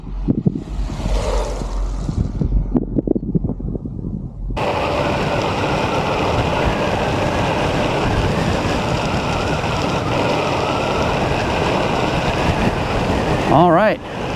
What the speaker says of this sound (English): these Italian PMT tires are significantly quieter than the standard hybrid